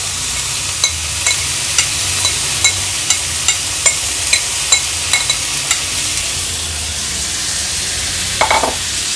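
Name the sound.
matki sprouted moth beans sautéing with turmeric in a pan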